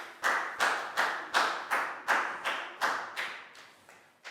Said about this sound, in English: High five and a big round of applause for Lakgao,